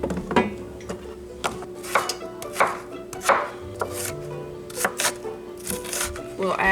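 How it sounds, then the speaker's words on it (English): An onion being chopped on a cutting board in a home kitchen, with repeated knife knocks in an uneven rhythm, close and clear, plus light clatter of dishes and no talking. "Then we'll chop the onion."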